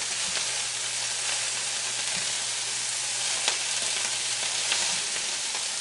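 Kale with garlic sautéing in a pan, a steady bright sizzle and hiss throughout with faint occasional pops, close and constant.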